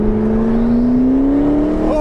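Loud, steady rising whir of a McLaren 650S Spider's turbo spooling up under acceleration, a continuous climbing engine drone with no talk.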